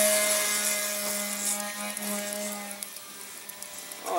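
A homemade Cirrus Dart UMX micro RC delta plane flies past, its small electric motor giving a steady high whine with shifting pitch that runs throughout, moderately loud against outdoor background.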